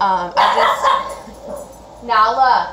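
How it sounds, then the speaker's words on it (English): A dog named Nala gives two bursts of sharp, yipping barks indoors, close and loud. Between the bursts there is a brief whimpering gap, and a person says a word over the noise. "we'll have to excuse the barking as well"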